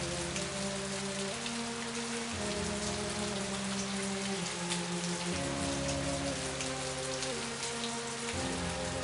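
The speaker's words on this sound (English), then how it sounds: "Just a drizzle." Rain falls steadily on surfaces in the game And Then There Were None, a constant patter of drops under low tonal background music, with no speech.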